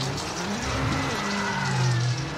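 Rally car in the video game WRC 7 swinging through a handbrake turn on tarmac at Rally Portugal, a steady engine drone with tyre scrub and a rising squeal near the end, close and continuous.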